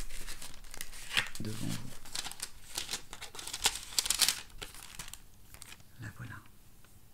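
A card slid into a paper envelope, with crinkling and rustling paper close by under and between a person's spoken words.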